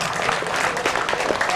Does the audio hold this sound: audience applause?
yes